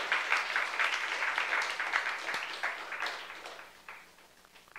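A church congregation applauds during a young adults' sermon, a dense clatter of many hands that swells near the start and slowly thins and fades over about five seconds.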